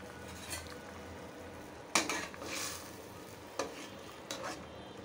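Lentil dumplings (bori) and fish drop into a frying pan of curry, giving a few soft splashes and clinks of a utensil against the pan over a faint low sizzle, quiet and close.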